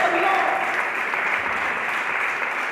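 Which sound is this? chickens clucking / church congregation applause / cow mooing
church congregation applause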